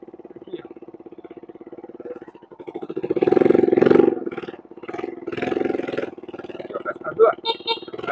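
A motorcycle engine with a perforated, leaking exhaust pipe idles with a rapid, rough putter and revs up twice, noisy and close, while someone talks over it.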